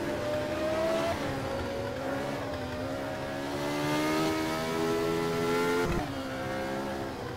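Race car engine in the Automobilista video game at the 1975 German Grand Prix, a loud, sustained high-revving engine drone climbing through gears with a sharp shift near the end, no talk.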